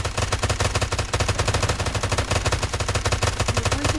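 Rapid automatic gunfire in a shooter video game, loud and continuous bursts of dense rattling shots close up, with only a brief break before the firing resumes.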